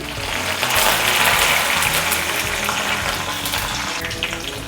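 Mustard seeds, two dried red chillies and onion frying in hot oil for a Kerala drumstick thoran, a loud, dense, continuous sizzle and crackle heard up close with no voices.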